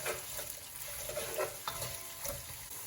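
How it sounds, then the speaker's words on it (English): Onions frying in ghee in a pot for mutton pilau, stirred steadily; a continuous close sizzle with scraping stir strokes, no talking. "Now I'm going to add in the onions. Put the gas up and give this a good stir."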